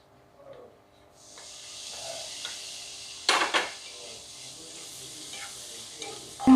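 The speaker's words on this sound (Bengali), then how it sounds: "যদি ভেজিটেবলস থাকে লাইক ক্যারট, বিনস, ক্যাপসিকাম দিয়ে জাস্ট হালকা একটু ভেজে নিতে হবে" Carrots, beans and capsicum sizzle softly in a pan for spicy Maggi, a steady gentle hiss with occasional stirring scrapes and a couple of sharper utensil clatters, close and fairly quiet.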